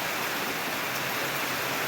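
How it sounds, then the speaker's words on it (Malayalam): Heavy rain pours down in a dense, unbroken hiss that stays loud and steady throughout, with no voices. "ഇതെന്തൊരു പെയ്ത്തത്, ഒറ്റ പെയ്ത്ത്"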